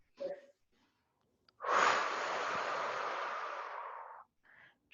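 One long, deep breath taken during a morning stretching session, a loud, steady airy exhale lasting about two and a half seconds, framed by brief softer breaths.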